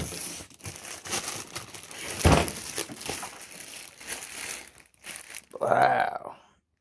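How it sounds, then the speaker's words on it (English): Cardboard and plastic packaging of a Kinetik HC-1200blu box being torn open by hand, with crinkling and ripping bursts spread across several seconds and a louder rip near the end, close up, while someone talks over it. "just tear it open"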